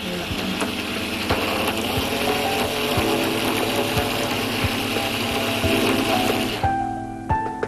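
A mixer grinder churns onion paste with a loud, steady mechanical whir and rattle for several seconds, then cuts off abruptly and leaves a fading hum, heard close and alone.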